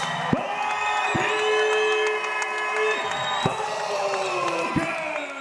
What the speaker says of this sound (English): you can hear the roar of the crowd